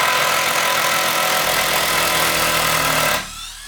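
Loud, steady whirring of a Milwaukee cordless drill running at full torque while driving a screw into a wall stud, holding constant for about three seconds before cutting off and winding down abruptly.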